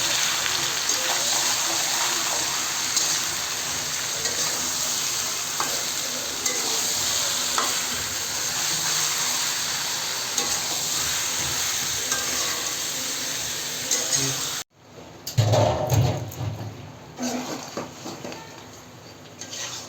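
Chicken curry meat sizzles and is stirred in a pan during home cooking, a steady frying hiss with scraping stirs, then a sharp break followed by louder, irregular clatter and sizzling bursts near the end.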